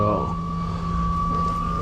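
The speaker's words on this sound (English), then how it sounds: "The humming sound you hear is air going into the tank there." Compressed air hums steadily as it fills a trailer's air tank, a constant near, even drone with a clear pitched tone running alone throughout.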